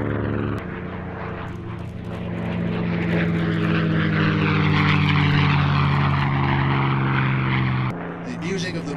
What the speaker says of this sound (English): The music of the Merlin.